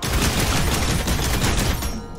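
Rapid gunfire in Lair of the Clockwork God, a loud, steady string of quick repeated shots that stops abruptly near the end, with no talking.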